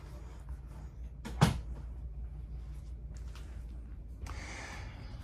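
Medicine cabinet door in the bathroom of a 2025 Salem FSX 266BHLE RV, one sharp close knock over quiet room tone, followed later by a soft brushing shuffle.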